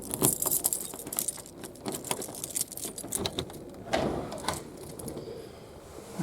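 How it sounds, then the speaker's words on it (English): A large bunch of keys jangles and clinks repeatedly in the hand while the shed key is sought, with irregular bursts of metallic rattling close by and no talking. "Sorry, I got about 1 million keys"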